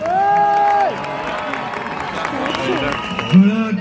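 A crowd cheers and applauds at a Vendée Globe sailing race gathering, a brief burst of cheering mixed with voices and music, moderately loud throughout.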